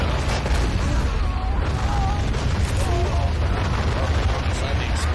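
Battlefield explosions in the World War II strategy game Men of War Assault Squad 2, set during a German invasion of Russia, rumble continuously in a dense, loud wash of booms and low blasts with faint tonal whistles and voices mixed in.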